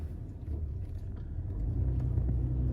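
A car cruising downtown at night on a quiet evening drive, with steady low engine and road rumble that grows slightly louder, no talking.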